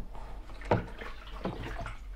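Water splashes and sloshes briefly while brewing packaging is rinsed out at home for kit beer, a couple of close liquid bursts alone without talk.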